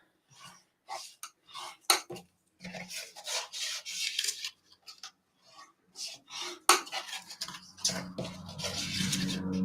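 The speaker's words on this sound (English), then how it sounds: "So just folding that down and burnishing all of those lines." Card stock being folded and burnished along the lid's fold lines of a handmade card box, a series of close, dry rubbing and scraping strokes in uneven bursts.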